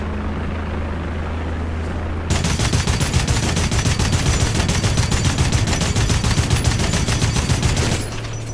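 A DShK heavy machine gun in War Thunder fires a long sustained burst of rapid, booming shots over a low engine rumble, loud and close, stopping abruptly after several seconds.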